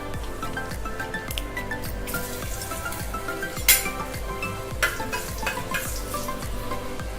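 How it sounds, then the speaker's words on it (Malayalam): Dried red chilies sizzle in hot oil in a pan for a Kerala-style fish head and tapioca dish, with a steady close crackle and a few sharp metallic clinks of stirring, no talking. "ഇതിലേക്ക് വറ്റൽമുളക് ഇട്ട് കൊടുക്കാം"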